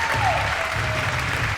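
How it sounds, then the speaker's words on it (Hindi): A studio audience on the game show Jeeto Ek Minute Mein applauds contestant Tooba with dense, steady clapping that fills the whole moment at an even loudness, and a low hum runs underneath. "आइए, बहुत सारी तालियां तूबा के लिए"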